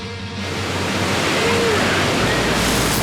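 Ocean surf at a coastal break better than Florida's, rolling in as a steady, broadband wash of breaking waves mixed with some wind noise, continuous and fairly loud throughout with no talking.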